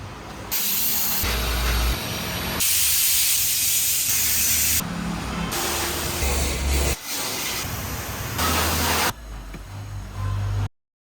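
Pressure spray washing a car at a vehicle washing centre: loud, steady hissing bursts of water spray in several long passes, separated by short breaks, with low rumbling underneath and no talk.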